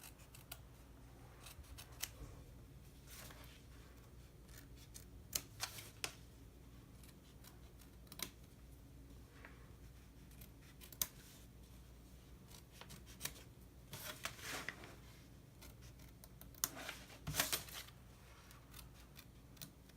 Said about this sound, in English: now we can also trim up this applique